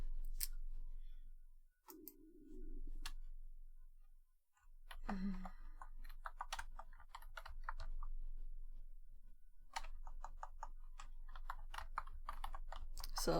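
Fingers type on a computer keyboard while taking notes on SQL: steady, close bursts of light key clicks with short pauses, and a few faint vocal sounds in between.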